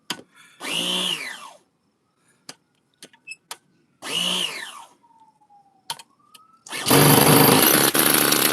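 An OS 26 four-stroke nitro RC engine, running rich, revs in short loud bursts with rising and falling pitch, separated by pauses and small clicks, then settles into a sustained roaring run near the end.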